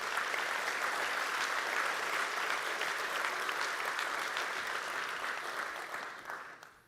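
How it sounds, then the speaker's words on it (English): A keynote audience at a Java developer conference gives sustained applause, a full even wash of clapping that holds for several seconds, then thins and fades out at the end. "I would leave a round of applause for all of the Java champions that are with us today"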